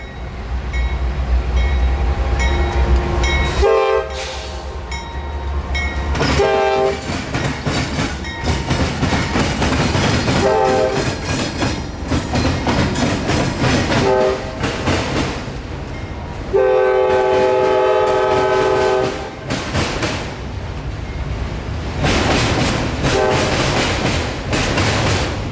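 A seasonal freight train hauling loaded auto racks rolls past close by with a steady rumble and clatter, sounding several long horn blasts over the passing cars.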